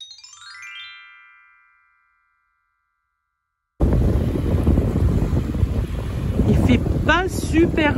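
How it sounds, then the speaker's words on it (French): Wind picks up outdoors in Spain, first a brief tonal sound and a pause of silence, then a sudden, loud, sustained gusty rumble buffeting the microphone. "il y a du vent là qui est en train de se lever"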